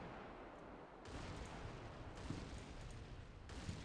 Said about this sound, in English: That was a hell of an explosion over here, though.